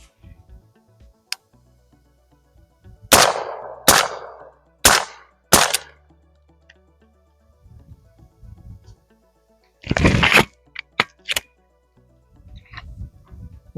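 Several sharp suppressed 300 Blackout rifle shots with 200 grain Winchester Super Suppressed ammunition crack outdoors, a few close reports spaced over several seconds, then a tight later cluster, with quiet gaps and faint low rumble between.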